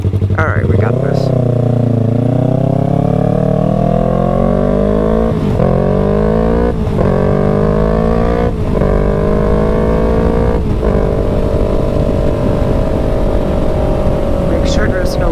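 A motorcycle engine on a night ride, loud and close, revving up through repeated gear changes with rising pitch after each shift, then settling into a steady drone.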